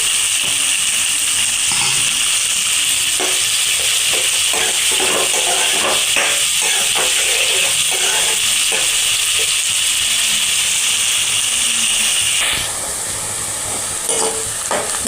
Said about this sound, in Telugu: ఉల్లిపాయలు ఫ్రై అయిపోయినాయండి కొంచెం బ్రౌన్ కలర్లోకి వచ్చినాయి